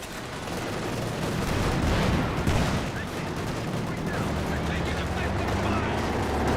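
Tank cannon blasts and rifle fire from a Company of Heroes 2 battle between a Panzer IV, Panzer Fusiliers and a Sherman tank, a dense continuous barrage of gunfire and booms with a low rumble, under commentary.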